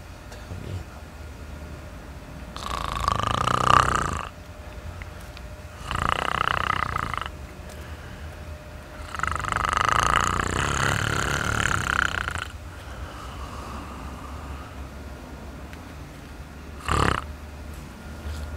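A man pretending to be drunk snores loudly in long rasping bursts, several separated by pauses, then a short final snort, close by and without talk over it.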